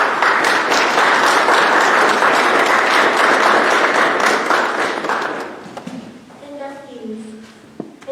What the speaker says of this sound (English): Please face the audience as we applaud your accomplishments.